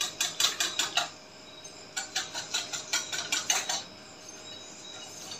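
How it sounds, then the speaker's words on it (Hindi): A spoon clinks rapidly against a bowl while yogurt raita is mixed, two bursts of quick rhythmic metallic taps separated by a short pause, close and clear. "अब इसको दोबारा से मिक्स कर रहे"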